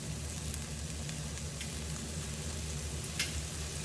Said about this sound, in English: Then I'm going to add in my peppers and the courgettes.